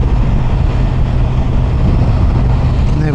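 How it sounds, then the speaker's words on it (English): Steady, dense wind roar buffets the rider's helmet at speed on a Kawasaki Versys 1000 SE GT motorcycle with the visor down, filling the whole short stretch without a break. "Now I can hear, definitely hear the wind above me"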